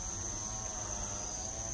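Cicadas in a farm vegetable garden drone loudly and continuously in one steady, high-pitched buzz with no breaks, and nobody talks.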